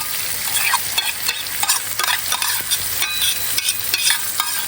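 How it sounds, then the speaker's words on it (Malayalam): Chopped tomato, onion, ginger, green chili and garlic sizzle and scrape as they are stirred in a hot pan, a continuous close frying hiss broken by repeated spoon strokes, with no voices. "ഇത് മൊത്തം അതിലേക്ക് ഇട്ട് കൊടുത്തതിന് ശേഷം ഒന്ന് നന്നായി മിക്സ് ചെയ്ത് കൊടുക്കാം"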